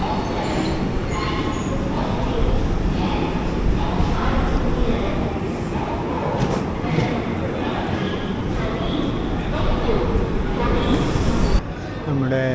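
The 12677 Ernakulam Intercity Express pulls out of Palakkad station, heard from on board as a steady, loud rumble of wheels and carriage noise that rolls on throughout, with a brief higher whine near the end.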